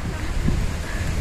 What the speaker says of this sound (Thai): ลมพัดแรงมากๆเลยค่ะ